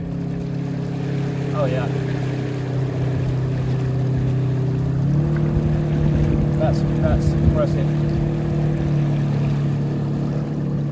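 A small boat driven by a TEMO 1000 electric outboard makes a 180-degree turn on open water, giving a steady low hum with light water wash and wind that shifts partway through. A voice comments briefly over it.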